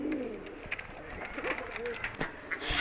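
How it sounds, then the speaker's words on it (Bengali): A male Giribaz pigeon coos softly and repeatedly at close range, with low throaty calls set against steady background noise. "এই একটা নর কবুতর"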